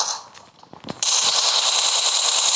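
Automatic gunfire in PUBG Mobile during a team deathmatch, starting as scattered shots then becoming a loud, sustained continuous burst that fills the rest of the moment.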